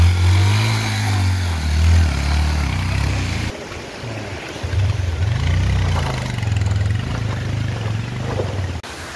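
A KTM motorcycle engine idles and revs steadily as the bike is pushed across a rough, dangerous road, its loud, near drone dipping briefly midway before resuming.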